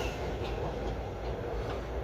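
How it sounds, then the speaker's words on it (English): A train rumbles steadily along the track as it arrives, with a low, continuous roar and faint rhythmic clatter, fairly close, no voices. "But my train is coming on track."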